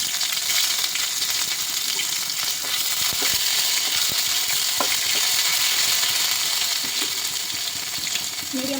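Ginger garlic paste frying in hot oil for a home-cooked chicken curry, a steady loud sizzle and crackle throughout with a few faint clinks of a spoon or pan.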